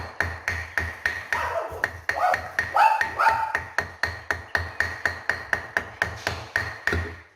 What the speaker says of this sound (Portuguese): É só bater com uma madeira aqui